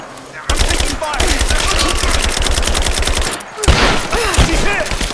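Sustained automatic gunfire in a video game firefight from Rise of the Tomb Raider, loud and close, with rapid continuous bursts, a brief pause, then more shots and voices shouting amid the fire.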